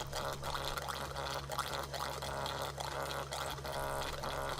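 Engine oil drains from a Yanmar 3YM30 diesel in a 2008 Ranger Tug R21-EC, a continuous close liquid pour and trickle with a steady low hum beneath.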